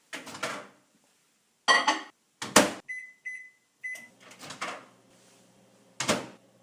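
A microwave oven being operated to boil priming solution for beer bottling: door clunks, a few short beeps, then more handling bangs and knocks, all close and clear.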